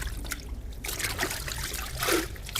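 Water trickles and drips from a cleaning cloth just dipped and lifted out during a home car wash, a close, steady dribbling that splashes more heavily near the end.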